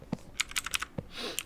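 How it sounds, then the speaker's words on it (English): A loud computer keyboard clatters with quick bursts of close keystrokes, a few clustered taps then a short pause and another brief run, with no talk. "I got a really loud keyboard."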